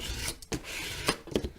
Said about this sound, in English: Just trying to burnish that down.